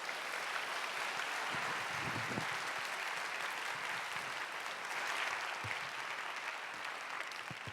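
A church congregation at a young adults' worship service applauds to welcome the pastor, a steady, fairly faint spread of many hands clapping from a distance, continuous throughout with a few sharper nearby claps.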